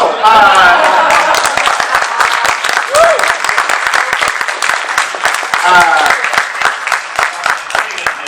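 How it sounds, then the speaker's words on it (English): A convention panel audience at a horror fan con applauds for actor Noah Hathaway, loud steady clapping sustained throughout with a voice speaking over it at moments. "a great big round of applause for Noah"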